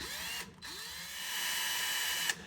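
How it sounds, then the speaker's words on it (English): A small drill bit bores into a snapped bolt, a steady high-pitched whine that dips briefly as the bit pauses, then runs on evenly and close. "I'll start with the smallest drill bit I've got, get it centered the best I can in that center punch"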